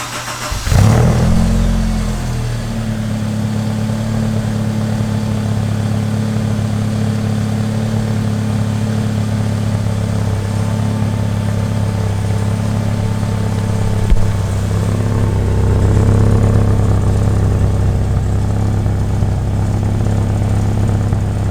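A Honda EK hatch with a custom-built exhaust cranks and fires up, then settles into a steady, fairly quiet idle close by, swelling only slightly near the end with no talking.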